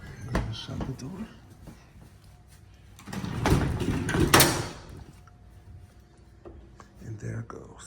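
A home elevator's door is slid shut inside a private house, with a sharp clatter and a scrape sounding close and moderately loud, between softer handling noises and quiet room tone.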